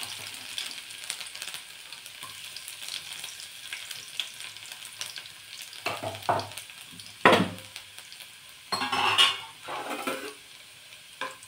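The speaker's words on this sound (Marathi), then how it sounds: "लसूण छान असा तळून घ्यायचा आहे तेलामध्ये, सोनेरी रंग येईपर्यंत" Chopped garlic fries in hot oil during a dill and masoor dal dish, giving a steady low sizzle with a few louder bursts of stirring and utensil scrapes near the middle and end. No one speaks.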